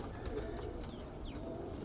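Roller pigeons coo softly in a loft, low gentle murmuring calls under a faint, steady background hum.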